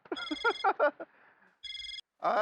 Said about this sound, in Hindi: देखो मैंने लग रहा वापस उसका फोन आ गया।